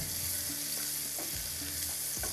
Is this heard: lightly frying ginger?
yes